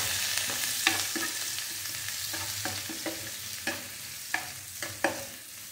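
Onion and green chilli fry in a pan, producing a quiet, steady sizzle broken by a series of distinct spatula knocks and scrapes.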